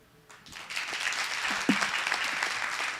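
Audience applause after a startup pitch at the AfricArena Grand Summit, a crowd clapping steadily and fairly densely for about three seconds, building from a soft start to a sustained wash.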